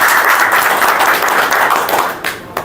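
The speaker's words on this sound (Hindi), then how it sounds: "आप लोग यहाँ पे आए तो अपने लिए ज़ोरदार तालियां बजाएं" Training-session audience clapping for themselves at the trainer's urging, a dense, steady wash of many hands close by that thins and breaks into a few scattered claps near the end.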